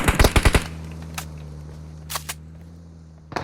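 Rapid burst of about five loud gunshots from PUBG Mobile at the start, then a steady low hum with a few faint clicks and a final short sharp report near the end.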